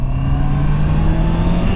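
A 2021 Honda CBR 650 R motorcycle engine holds a steady, close, loud drone with a clear humming tone and no rise or fall.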